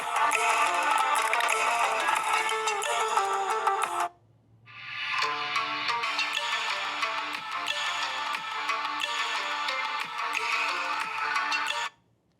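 A musical ringtone plays through the loudspeakers of two phones, a OnePlus Nord CE5 and a Vivo T4 Pro, one after another, separated by a brief gap of near silence; each runs as a steady, bright melody.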